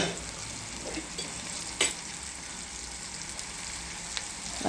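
Sliced bitter gourd frying in a pan, a constant close sizzle broken by a couple of sharp stirring scrapes; no one speaks.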